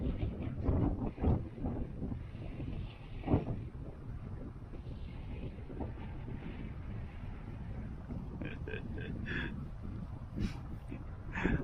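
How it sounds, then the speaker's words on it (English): Strong wind buffets the microphone in low, rumbling gusts, with scattered knocks and faint clicks underneath. "It's extremely windy now."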